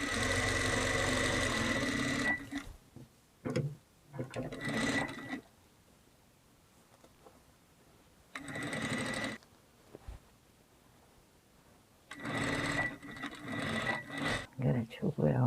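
A sewing machine runs in three bursts of steady whirring stitching along a seam of a linen apron, with pauses between runs where someone talks over softer handling noises.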